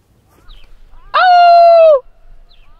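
A single bird call rings out outdoors, a loud honking, goose-like note held for just under a second against quiet surroundings.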